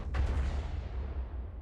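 Tank shells fire in a video game as one sharp heavy boom, followed by a rumbling low tail that lingers close and loud without talk.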